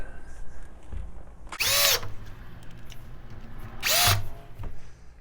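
A power drill drives screws into a deadbolt lock during a door lock replacement, with two short, loud whirring bursts separated by a pause against quiet room noise.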